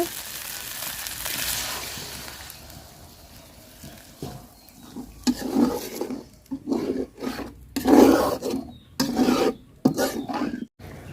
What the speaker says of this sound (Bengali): তো মশলাটা আমি সুন্দর করে কষায় নিব।